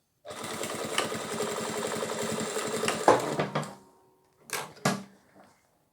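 A sewing machine stitches straps onto a nursing pillow cover, a rapid even run of needle strokes for nearly three seconds, then a stop and two short bursts of stitching, close and fairly quiet.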